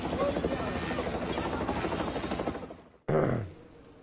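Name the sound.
rescue helicopter flying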